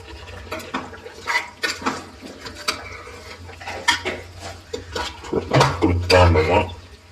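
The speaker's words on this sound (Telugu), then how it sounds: "కలుపుతూ ఉంటాము." Chicken biryani masala is stirred in a cooking pot, with close, irregular scraping and clinking of a spoon against metal while someone talks throughout.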